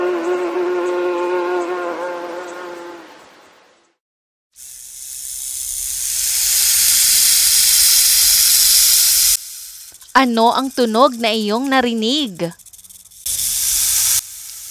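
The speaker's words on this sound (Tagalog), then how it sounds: "Tama, ito ay tunog ng ahas." A snake gives a long, loud, breathy hiss that holds steady for several seconds. It comes after a brief buzzing and is followed by a spoken question, then a short final hiss.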